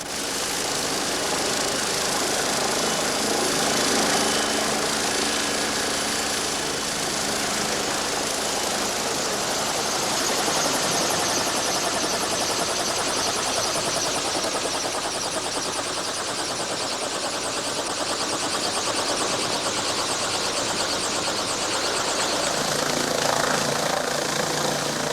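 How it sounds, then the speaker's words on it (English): A steady, loud helicopter drone with rotor chop and engine roar, continuous for the whole stretch with no voices. "they'll do it by helicopter."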